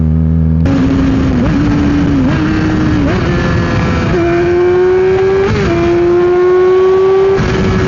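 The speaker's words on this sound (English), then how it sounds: "you can't even hear the exhaust as good as it actually sounds" A sport motorcycle's exhaust roars close up, its pitch climbing in steps with brief dips between gear shifts, steady and buzzing throughout.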